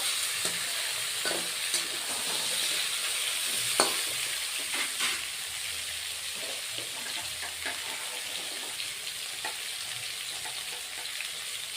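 Taro pieces cut into long strips like potatoes sizzle steadily in a hot pan for a fish curry, a soft even crackle broken by occasional clicks and scrapes of stirring, close by and with no talking.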